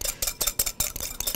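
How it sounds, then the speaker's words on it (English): Rapid, rhythmic clinking and scraping of a whisk against a bowl, about seven quick strokes in a row, close and fairly soft. "we're just going to whisk this till it is frothy"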